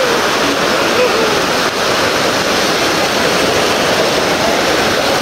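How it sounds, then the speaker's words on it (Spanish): Waterfall inside the Grutas de Tonaltongo cave, a loud, steady broadband rush of falling water that fills the space without letup. "Se ve muy padre la cascada aquí"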